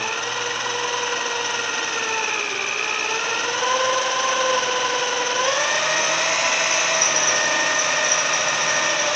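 A power drill bores holes through the steel frame of a 1983 Chevy C30 cab-and-chassis truck. It runs as a steady, loud whine across the whole stretch, and its pitch dips and rises as the bit loads up and frees. There is no talk.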